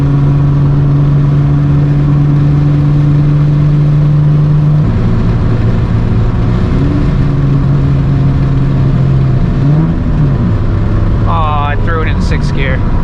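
A Nissan 350Z with a full HKS straight-piped exhaust drones loudly and steadily while cruising, its engine note shifting in pitch through a gear change, with a brief higher squeal near the end.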